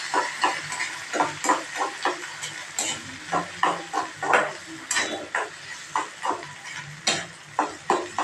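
Grated raw mango and curry leaves sauté in a pan: a steady sizzling hiss with regular scraping strokes from stirring, close and fairly loud, without talk.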